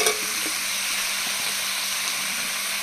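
Sautéed duck meat sizzles steadily in a pan for a papaya duck curry as chopped papaya goes in, a continuous close frying hiss with a few soft clinks and stirring touches, no talking.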